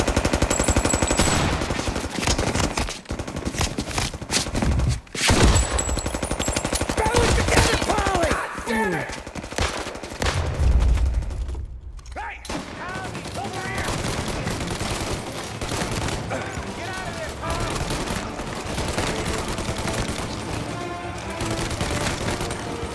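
Sustained gunfire rattles through a Mafia video game shootout, with dense automatic bursts and single loud shots over a continuous noisy background and a brief lull midway.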